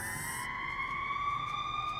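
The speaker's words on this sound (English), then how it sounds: "So we're going to have acid spray close." Close-up acid spray sound effect for a fight scene: a steady, fizzing hiss with a high whining tone running through it, held evenly and fairly quiet throughout.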